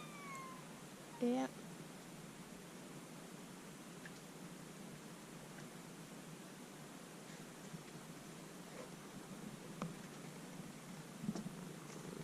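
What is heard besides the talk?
cats meowing and purring, waiting to be fed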